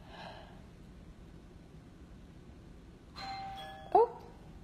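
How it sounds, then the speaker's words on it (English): A doorbell chimes once, a two-tone ding-dong heard from a distance in an otherwise quiet room, followed by a brief soft breath. "Someone just rang my doorbell."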